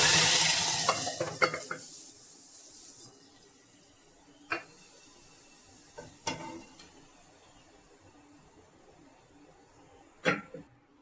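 Dal poured into a hot tempering of browned garlic and curry leaves, giving a loud sizzle over the first few seconds that fades into a soft simmer, with a few sharp clinks and stirring knocks spread through the rest.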